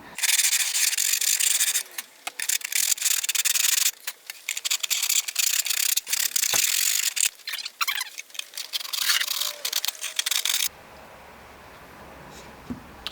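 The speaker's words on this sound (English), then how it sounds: "And now I can clean up the joint here with a bit of sandpaper" Sandpaper rubbing back and forth over a cracked joint on a broken acoustic guitar during repair, a close, steady rasping scrub in repeated strokes for about ten seconds before stopping into quiet room tone.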